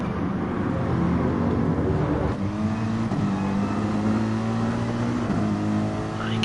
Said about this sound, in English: You can hear the short shifting going on for Cutler then